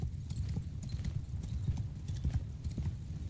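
Horses galloping in a cavalry charge in the video game Mount & Blade 2 Bannerlord, a dense, continuous drumming of many hooves at moderate level with occasional whinnies mixed in.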